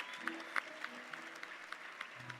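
A church congregation at an evening family conference gives brief applause, faint scattered hand claps with a few sharper individual claps over a soft room background.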